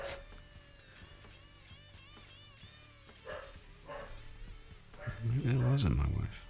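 A dog barks indoors in a few loud bursts toward the end, rising over a quiet room where someone talks now and then.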